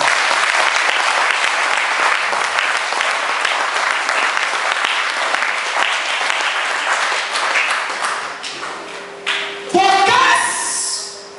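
A church congregation applauds the Lord in loud, sustained clapping that fills the room, then thins out and fades near the end as a few voices and a brief musical tone come in.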